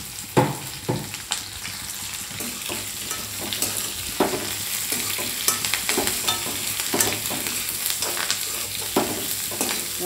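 Onions, green chilies and curry leaves sautéing in a pan, a steady close sizzle with repeated scraping and stirring knocks from a utensil, no voices.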